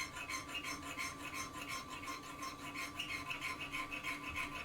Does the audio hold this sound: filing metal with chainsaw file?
yes